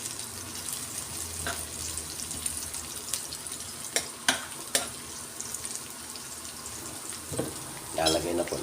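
Onions sautéing in a pan, a steady low sizzle with scattered sharp clinks of a utensil against the pan and a brief clatter near the end, fairly close and without talk.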